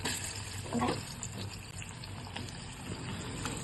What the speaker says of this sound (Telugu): బాగా ఫ్రై అయిపోయింది చూడండి